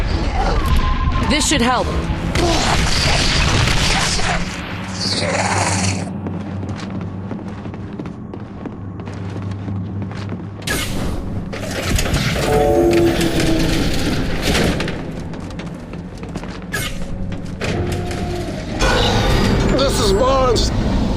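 Called-in heavy weapons explosions in The Bureau: XCOM Declassified, repeated loud crashing blasts and bursts of debris over busy combat noise and music across the whole stretch, with a brief spoken line partway through.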